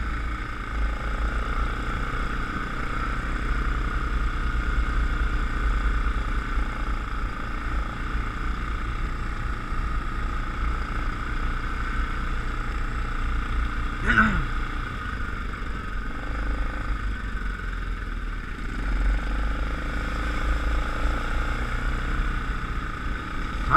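Rhino 700 side-by-side engine droning steadily at low revs while driving along a dirt trail, a constant rumbling hum throughout with one brief bump or knock midway.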